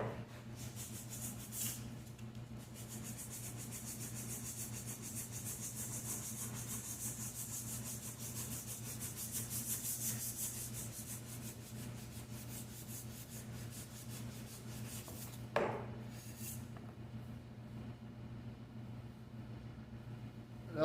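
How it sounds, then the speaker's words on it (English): Sandpaper is rubbed by hand over spots on an old metal part being prepared for powder coating. It makes a soft, continuous scratchy hiss that runs for most of the stretch at low volume. "we're just going to go back with a piece of sandpaper and hit the little spots that tough to get"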